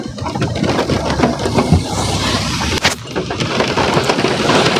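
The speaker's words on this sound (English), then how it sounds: "as soon as this rain goes away" Steady rain falls outdoors, a dense broadband wash of drops with a faint rumble underneath and a few sharper spattering hits, continuous throughout with no voices.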